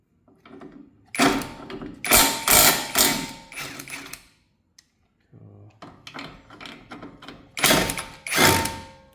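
Ratchet and wrench work on the subframe bolts of a Volkswagen R36 during engine removal preparation, giving loud bursts of clicking and metallic clanks in irregular clusters separated by short pauses, with no talk over them.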